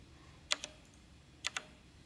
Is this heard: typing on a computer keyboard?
yes